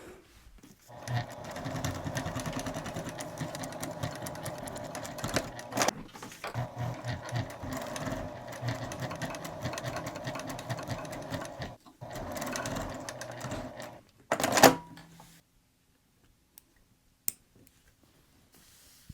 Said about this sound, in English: I'm going to back stitch at both ends doing this, and I'm going to do it at a 3mm stitch length